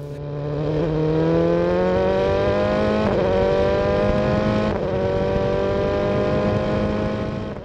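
Onboard a race car flat out through a fast left-hand curve, the engine note climbing steadily toward top speed with two brief gear-change dips, loud and continuous from the cockpit.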